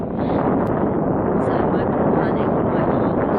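Strong, steady wind roars and buffets the microphone continuously on an open beach, a dense broadband rush with no letup.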